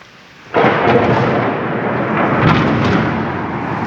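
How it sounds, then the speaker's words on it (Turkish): Small hailstones falling in a spring storm in Bağcılar, Istanbul, begin abruptly as a loud, dense, continuous rattling hiss that holds steady to the end, with no voices. "Küçük küçük dolular yağıyor."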